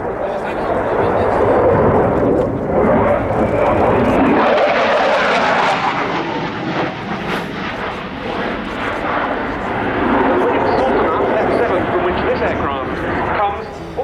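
A Saab JAS-39C Gripen of the Swedish Air Force flies a display at an air show, its jet roar loud and broad, swelling and shifting as it passes, with a commentator's voice running underneath.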